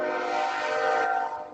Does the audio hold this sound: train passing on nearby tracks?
yes